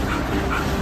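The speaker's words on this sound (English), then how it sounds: "This is a dog telling a dog to give its space." A brief, close growl or grumbling vocalization from a dog warning another dog to give it space.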